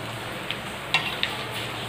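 Crushed yellow mustard seeds cook in hot spiced oil with a soft, even sizzle and a few faint pops and ticks.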